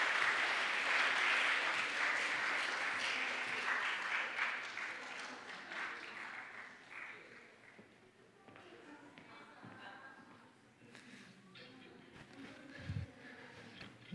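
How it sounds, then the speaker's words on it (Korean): A church congregation applauding teachers and the Sunday school during a Sunday worship service, a loud burst of clapping that thins and fades over several seconds, followed by scattered taps, shuffling and murmuring voices. "우리 다시 한번 수고한 선생님들 그리고 우리의 주일학교에게 큰 박수 보내드리겠습니다."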